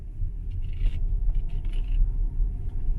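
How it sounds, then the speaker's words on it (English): Low, steady rumble of tires rolling on a road inside a quiet 2017 Tesla Model X 75D electric car, with faint squeaks and scrapes on top. "That's all you're hearing. Just the roll of tires."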